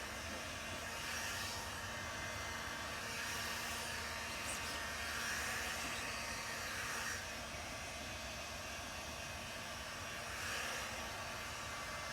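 A heat gun blows steadily while warming a three-layer vinyl taillight divider decal on a Challenger, a soft continuous airy roar that swells and eases slightly, heard alone.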